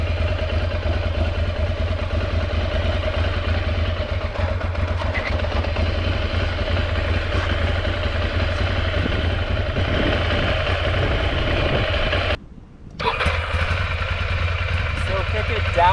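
Motorcycle engine idling and pulling away slowly in first gear as the clutch is released on a first ride: a steady low engine rumble throughout, with a brief dip near the end.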